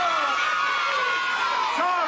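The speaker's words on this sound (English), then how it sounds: "Let's give Dorothy a great big ha-ha cheer!" A studio audience cheering and whooping for Dorothy in a comedy sketch, a loud bright roar of voices that holds steady over a couple of seconds.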